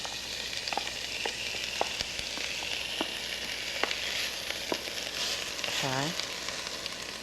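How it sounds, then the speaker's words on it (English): Onions and celery sauté in a pan with a steady, moderate sizzle, punctuated by light utensil taps; a voice briefly speaks near the end. "we're going to saute the vegetables for 3 minutes"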